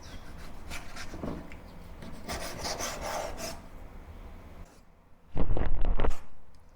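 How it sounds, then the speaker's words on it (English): Pork is sliced thinly and cut into strips for a Chinese pork and green pepper stir-fry, with repeated rasping knife strokes on a cutting board building to a louder, closer burst of cuts near the end. "First, slice the pork thinly and cut it into strips."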